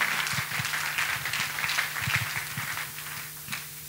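A church congregation claps together in praise after a testimony, a dense, lively burst of many hands that stays fairly loud throughout.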